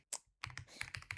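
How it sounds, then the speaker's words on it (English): Fingers tap out a long command on a computer keyboard, a quick uneven run of close, crisp key clicks with brief pauses between bursts. "I'm not that fast at typing things nor remember it well, so this is gonna take a while"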